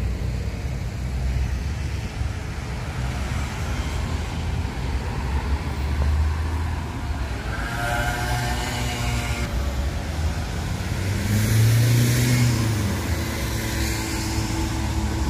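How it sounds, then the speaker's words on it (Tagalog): Bus at the Varaždin bus station, a continuous loud engine rumble, with a passing whoosh of traffic midway and a deeper engine surge near the end. "Ayun na yung bus. Autobus ni Kolodvor."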